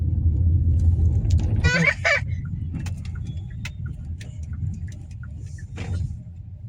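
A car being driven on the road gives a steady low engine rumble and road noise throughout, with a few brief voices and small clicks over it.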